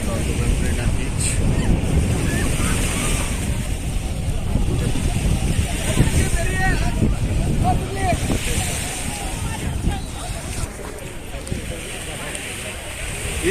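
Waves washing onto Dubai Marina beach, a steady close surf wash mixed with wind buffeting the microphone, with faint voices in the background.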